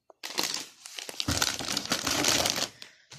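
A plastic bag of mouse food being handled and pulled from a cardboard carton gives off dense, continuous crinkling and rustling that runs close and fairly loud for about three seconds, with no talk.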